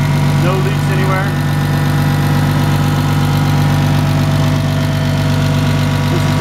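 Komatsu FG45 pneumatic-tire forklift with a 10,000 lb capacity idles close by with a loud, steady engine drone and vibration, a voice talking faintly underneath.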